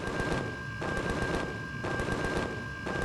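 Spaceship turrets in the game Empyrion Galactic Survival fire rapid automatic bursts, a dense loud rattle of shots broken into three roughly evenly spaced volleys with brief gaps, and no talking.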